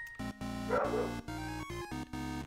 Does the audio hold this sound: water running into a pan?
no